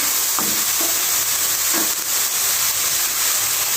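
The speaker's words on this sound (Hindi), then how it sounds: "तो अभी इसमें जाएगी ये 1 कप बंद गोभी। तो सब्जियों को हल्का हल्का पकाना है थोड़ा सा।" Cabbage and mixed vegetables cook gently in a pan for Chinese chicken kebabs, giving a steady, close sizzle with a few light stirring scrapes, no voices.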